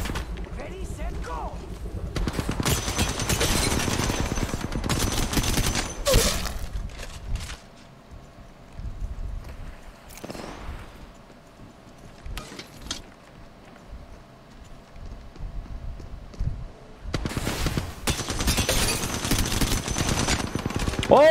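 Bursts of rapid automatic fire from the Alternator SMG in the mobile shooter Apex Legends Mobile, loud sustained volleys at the start and end with quieter scattered shots and game sounds in between, with a player talking over it.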